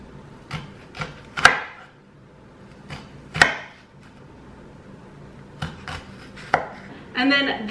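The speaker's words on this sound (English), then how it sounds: "the last part to cut your onion is just to go straight down and chop them" A knife chops through an onion on a cutting board with a few sharp, separate knocks spaced unevenly, then a brief scraping burst at the end, close and fairly loud with no talk.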